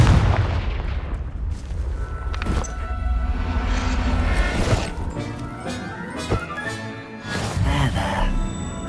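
Confringo fire-blast spell in Hogwarts Legacy, loud booming explosive bursts repeating over rumbling game sound, with several sharp blasts across the span.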